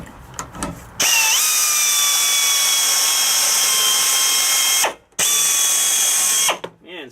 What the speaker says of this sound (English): probably drill another hole